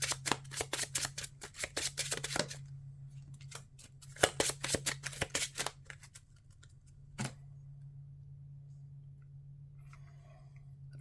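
Marvel Champions playing cards being shuffled by hand, a rapid run of riffling clicks in two bursts, then a single snap, close and fairly quiet over a steady low hum.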